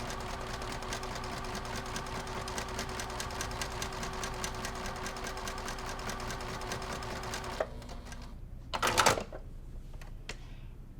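A sewing machine runs steadily for about seven seconds, stitching quilt pieces at a short 1.5 to 2.0 stitch length, then stops, followed by a brief clunk.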